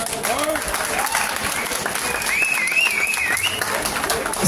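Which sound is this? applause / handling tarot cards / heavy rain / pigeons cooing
applause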